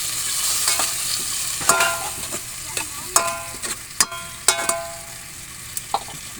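Sardines frying in a pan with a steady sizzle while a utensil stirs and scrapes, giving sharp irregular clinks against the metal close by.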